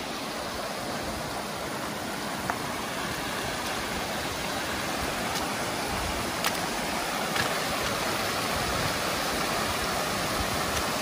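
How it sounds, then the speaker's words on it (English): Water rushing over the Grout Creek tributary waterfall in Big Bear, California, a steady, dense broadband roar that stays constant and close throughout with no voices. "Look at all this water coming through."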